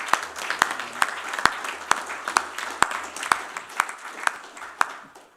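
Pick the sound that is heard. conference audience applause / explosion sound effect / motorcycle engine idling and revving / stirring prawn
conference audience applause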